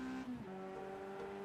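A Mazda Miata race car in the iRacing game runs downhill at Silverstone, its engine a faint steady drone that drops pitch once on a quick shift before settling into a sustained tone.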